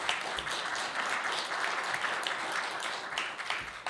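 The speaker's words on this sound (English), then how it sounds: "she deserves most of that applause" Conference audience at a policy conference's opening keynote breaks into warm, continuous applause, a thick wash of many hands clapping at moderate distance, fairly even and unbroken for several seconds.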